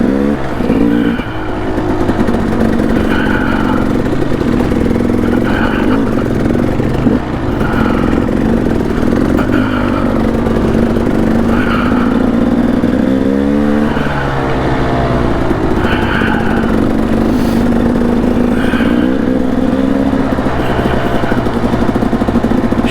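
A Kawasaki KLX140RF dirt bike ridden on a rocky single track in Payson Canyon, Utah, revs steadily up and down close by, its small engine rising and falling through gear changes for the whole stretch.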